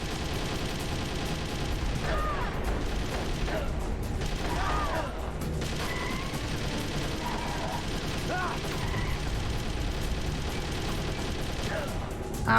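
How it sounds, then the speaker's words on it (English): Sustained gunfire from Metal Gear Solid: The Twin Snakes, a dense mechanical clatter of repeated shots running throughout under game noise and a speaking voice. "Just keep shooting the gun."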